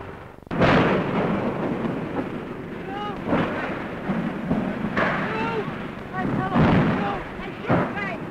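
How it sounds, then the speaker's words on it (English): The Hindenburg airship explodes and crashes in newsreel footage: heavy booming roars and rumbling blasts recur, with voices over the din. "you're about to see the pictures he got when the ship exploded"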